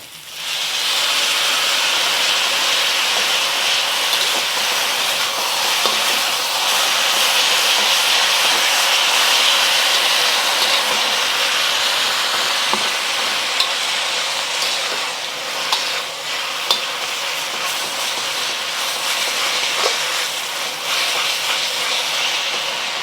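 Noodles stir-fry in a hot pan as sauce goes in, giving a loud, steady sizzle and hiss that holds for the whole stretch with small clatters from stirring.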